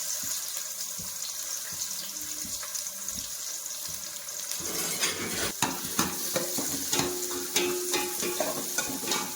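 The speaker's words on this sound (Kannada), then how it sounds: "2 ಈರುಳ್ಳಿ ಇದೆಯಲ್ಲ ಫ್ರೆಂಡ್, ಅದನ್ನು ಫ್ರೈ ಮಾಡ್ಕೊಳ್ಳೋಣ ಸಾಂಬಾರಿಗೆ." Onions fry in oil for a fish sambar curry, starting quietly then breaking into crackling sizzle with scraping stirs from about midway, close and fairly loud, with no talking.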